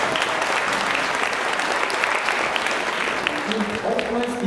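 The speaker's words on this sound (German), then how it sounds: "möchte ich Sie zunächst einmal wieder um einen großen Applaus für unser Brautpaar bitten" Wedding guests applauding the bridal couple at a German wedding reception, a loud dense burst of clapping from a full room, sustained evenly throughout.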